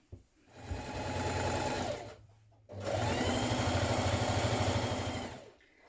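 A sewing machine runs steadily in two long, close bursts with a short pause between, stitching a blouse seam down to a marked point.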